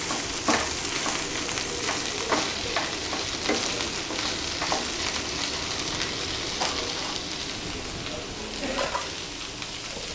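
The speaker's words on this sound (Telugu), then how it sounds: "బెండకాయల్ని మధ్య మధ్యలో అడుగంటకుండా ఇలా 2 నిమిషాలకు ఒకసారి కలుపుకోవాలి." Okra pieces sizzle in a pan with a dense, steady crackle and repeated soft stirring strokes every second or two, close by with no talk.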